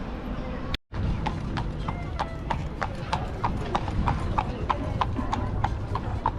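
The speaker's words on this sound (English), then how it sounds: "full of horse carts and horse marks everywhere" Horse carts roll along a seaside street in Great Yarmouth, with hooves clip-clopping in a steady, even rhythm over a busy outdoor background and faint voices.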